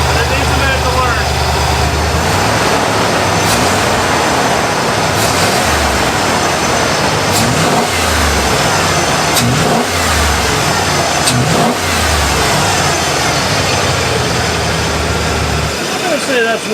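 An old OBS Ford truck engine, run again after sitting 14 years, idles loud and rough with a choppy, stumbling rhythm, and several throttle blips rise and fall over it. Someone talks briefly near the end.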